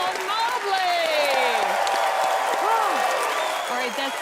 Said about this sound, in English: give Alyson a round of applause